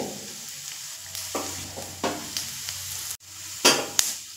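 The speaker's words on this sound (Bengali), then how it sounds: "পাঁচফোড়ন একটু ভাজা হতে দেব" Bengali five-spice seeds crackling in hot oil, a light sizzle broken by several scraping stirs of a spoon against the pan.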